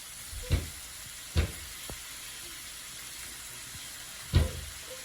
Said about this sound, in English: So now I'm putting butter on the steak so I can get that butter taste.